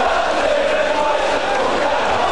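Football crowd at Ayresome Park, Middlesbrough, roaring after a goal in a 1988-89 First Division match against Aston Villa, a loud, sustained wall of cheering and shouting from a large stadium crowd.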